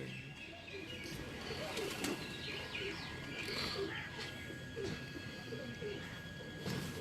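Several pigeons coo softly in low, rolling calls amid wing flutters and faint chirps, with quiet voices murmuring in the background.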